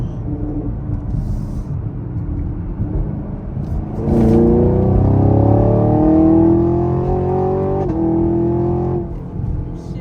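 A Chevrolet Camaro 2SS pulls hard from inside the cabin, engine note rising through a gear, then a quick shift and another climb before easing off, loud and close.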